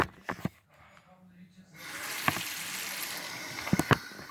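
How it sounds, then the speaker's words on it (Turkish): A tap is turned on with hot water, a short scrape and knock followed by a steady rushing stream that swells near the end with a few clatters, no voices. "Öncelikle suyumuzu açacağız."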